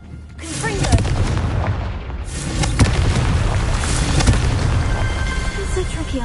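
A loud, rumbling blast from the Confringo spell in a Harry Potter video game, with several booming detonations and crackling debris over a sustained roar, and no voices.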